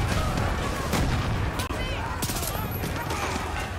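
Dense gunfire and heavy blasts from a Far Cry 6 battle, loud and continuous with sharp cracks and booms layered over a busy combat mix, a voice talking intermittently underneath.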